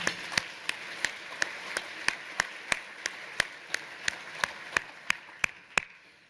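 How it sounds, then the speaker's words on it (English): Clapping at a Hilton Head/Bluffton Chamber of Commerce State of the Region event: sharp, evenly spaced claps in a steady beat, quiet and sparse, more like a few hands keeping time than a full ovation. "Let's just give Ashley another big round of applause."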